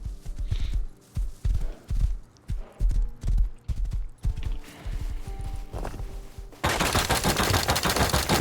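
Rapid video game horse hoofbeats in Rust thud in a steady galloping rhythm, then give way to a loud rushing burst of noise at the end.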